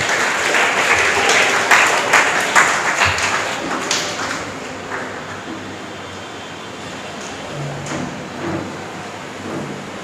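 Audience applause at an English academy confidence-building program, a burst of clapping that is dense and loud at first, then thins and fades over about ten seconds with some hall noise.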